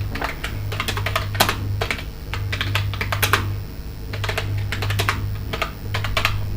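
Rapid typing on a computer keyboard, close and clear, with bursts of clicking keystrokes separated by short pauses over a low steady hum.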